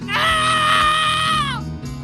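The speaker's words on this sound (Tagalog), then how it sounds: "Hindi yun sigaw ni mama sa panggigising. Iyak kasi yun ang baboy ko" A pig squeals loudly and continuously at close range, a shrill, sustained cry lasting nearly two seconds before breaking off.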